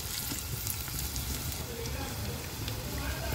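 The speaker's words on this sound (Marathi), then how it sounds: "कांदा पण तेलात छान शिजवून घ्यायचा आहे आपल्याला" Onion sizzling steadily in hot oil in a pan over a wood-fired chulha, a continuous close crackle and hiss for gavran chicken curry.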